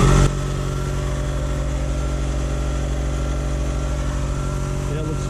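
A Quincy QT-54 Pro air compressor running in a shop, a loud, steady mechanical drone with a fast pulsing chug throughout, someone talking briefly over it.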